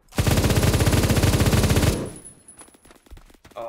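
Rapid automatic gunfire from a weapon in the Roblox shooter Phantom Forces, a loud, steady burst of closely spaced shots lasting about two seconds, followed by quieter scattered clicks and game noise.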